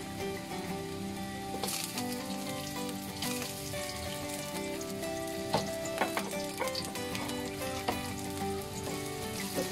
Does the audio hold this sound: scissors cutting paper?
no